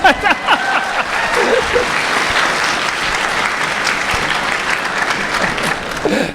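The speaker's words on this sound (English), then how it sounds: "Give him a round of applause." A crowd at FanimeCon 2017 applauds loudly and continuously for several seconds after a stand-up, a dense wash of clapping with no break.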